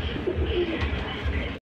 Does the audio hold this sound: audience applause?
no